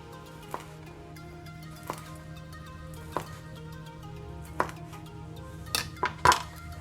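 A knife cuts through rolled pitted dates on a board for Korean yaksik, several separate thunks spaced about a second apart, then a quicker cluster of cuts at the end, with no talking.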